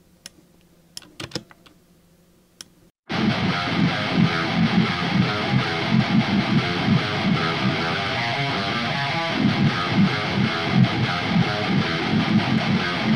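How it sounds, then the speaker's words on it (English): Heavily distorted metal guitars run through the Neural DSP Gojira amp plugin come in after a few quiet drum ticks, a dense, loud chugging riff sustained to the end with no talking. "for guitars, I used Neural DSP's Gojira plugin"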